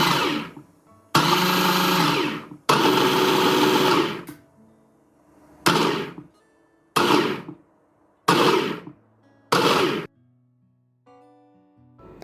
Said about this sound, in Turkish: rende kısmını da çalıştırıyoruz